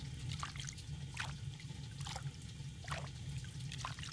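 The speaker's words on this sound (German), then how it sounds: "Schön ein bisschen planschen." Gentle water sounds in a bathhouse pool in Stardew Valley, a steady low trickling wash with small splashes and drips recurring every second or so, moderately close and continuous.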